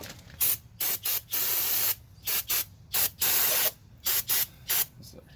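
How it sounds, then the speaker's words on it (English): Brake cleaner sprayed on the wheel hub of a 2006 Mazda 6 during a rear hub and bearing replacement, a series of short and longer hissing bursts, close up, with no voices. "So I'll hit it with some brake clean"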